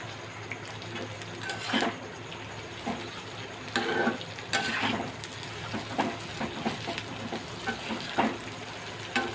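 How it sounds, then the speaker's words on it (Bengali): White sesame seeds and coconut fry gently in a pan over a low gas flame, giving a soft continuous sizzle broken by frequent scraping stir strokes. "একটু ভাজা ভাজা করছি, আমি গ্যাসটা আস্তেই রাখছি, বেশি জোরে করছি না, কেন তিলটা পুড়ে যেতে পারে"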